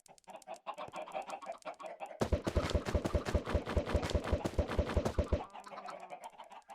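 Chickens in the video game Minecraft cluck in a rapid run of clipped, choppy calls lasting a few seconds, loud and close, framed by quieter game sounds with no talk.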